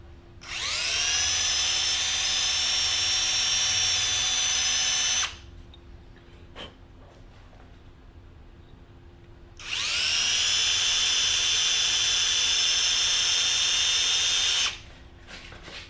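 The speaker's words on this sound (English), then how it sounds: "see if I can drill a straight hole" A power drill whines loudly at high speed for about five seconds, stops briefly, then runs again for another long burst, close by, drilling a hole during Yamaha XS650 motorcycle clutch and shifter work.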